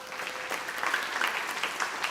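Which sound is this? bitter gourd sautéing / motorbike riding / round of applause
round of applause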